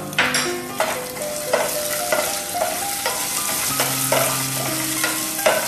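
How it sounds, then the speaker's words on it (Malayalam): Ginger and green chilli fry and sizzle in a pan, with a steady hiss under repeated close scraping strokes of a spoon or spatula. The stirring is moderately loud and there is no talking. "ഇഞ്ചി ചേർത്തു ഇനി പച്ചമുളക് കൂടെ ഇതിലേക്ക് ചേർക്കാം"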